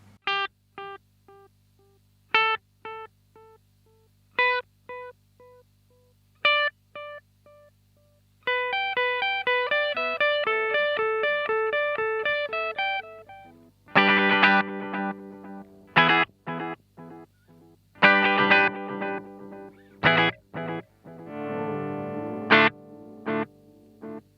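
Electric guitar notes through a Danelectro Dan Echo delay pedal, each pluck trailing off in repeating echoes, then a busier passage of strummed chords with lingering repeats.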